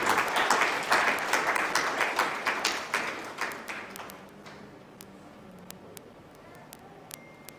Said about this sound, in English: let's clap for the Canadian embassy and the government over there